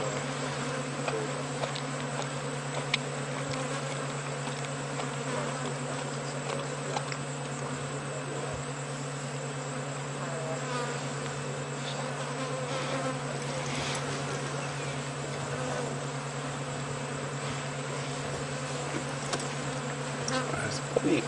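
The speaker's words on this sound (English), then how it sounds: "Now listen to the buzz of the flies." A dense swarm of blowflies drones continuously on a safari drive, a steady close buzzing hum that holds for the whole stretch with no talking.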